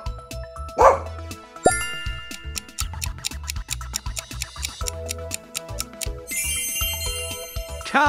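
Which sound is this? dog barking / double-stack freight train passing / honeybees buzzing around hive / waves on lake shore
dog barking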